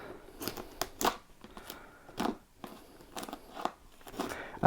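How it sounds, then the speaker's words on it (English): A Warhammer 40K World Eaters Combat Patrol box is unwrapped close up, with repeated sharp crinkling and tearing bursts of plastic wrap between short pauses. "let's unwrap this"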